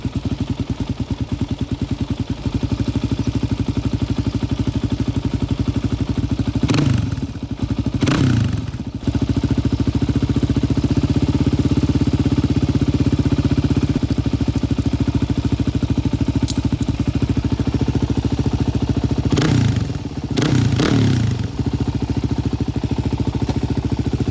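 Suzuki DRZ 400 motorcycle engine at operating temperature idling steadily, a close, even mid-pitched putter, interrupted by a few clattering thumps of handling noise partway through.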